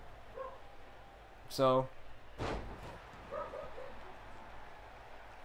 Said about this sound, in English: I apologize for my dog barking.